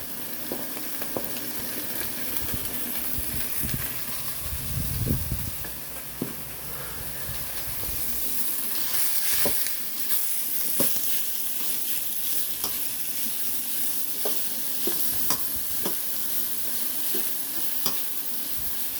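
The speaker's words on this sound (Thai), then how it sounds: "ที่กระเทียมเริ่มหอมแล้ว หมูลงเลยครับ" Pork sizzles loudly in a pan with fragrant garlic, a continuous hiss broken by occasional scrapes and stirring clatter, close and steady for the whole stretch with no speech.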